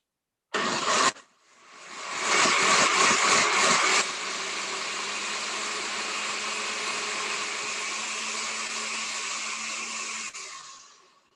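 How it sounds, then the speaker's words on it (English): A blender blending adobo sauce ingredients whirs on briefly, stops, then runs loud and steady for several seconds before winding down, close up. "I'm going to blend it all up. So it's going to get a little loud."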